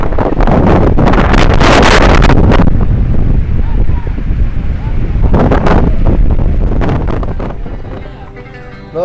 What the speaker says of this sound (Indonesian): Di atas ini anginnya kencang kalau teman-teman dengar ya dari suara angin.